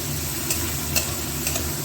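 Spices with salt and turmeric frying in a pan alongside Govindobhog rice, a steady close sizzle with a few soft stirring scrapes over about two seconds, no voices.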